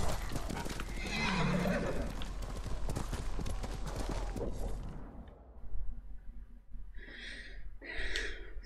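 A horse in the video game Ghost of Tsushima gallops with loud, dense hoofbeats, then slows. It ends with two sharp, close whinnies and snorting breaths.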